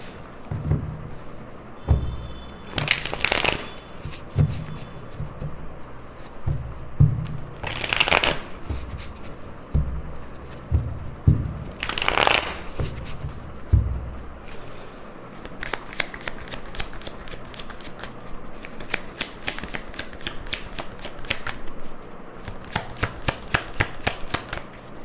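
Tarot cards being shuffled over and over, a crisp riffling flutter returning in repeated bursts with soft taps and slides between them, close and fairly quiet, no voices.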